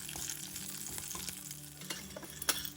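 Crushed garlic and broken dry red chillies sizzling in hot tempering oil for a ginger chutney, a soft steady crackle with a few sharper pops and spatters near the end.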